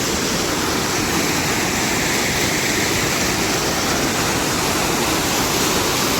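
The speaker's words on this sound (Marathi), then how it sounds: "इतकं पाणी चाललंय मित्रांनो तळ्याच्या तोंडाचं" Floodwater rushes out of a village lake outlet after heavy rain in Badole, a loud, constant roaring torrent heard up close and unbroken, with no one speaking.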